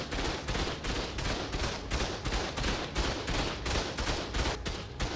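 Automated turrets in ARK firing a relentless, evenly paced stream of loud shots, each one a sharp crack in a rapid machine-gun rhythm that continues without pause.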